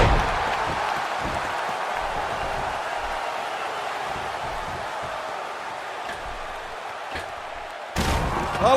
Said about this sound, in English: This crowd going crazy for Stone Cold Steve Austin